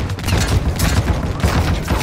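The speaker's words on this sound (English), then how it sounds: "we're shooting at the healer now" Dense automatic gunfire in Call of Duty MWII DMZ, a continuous loud burst of rapid overlapping shots with booming low end and no gaps.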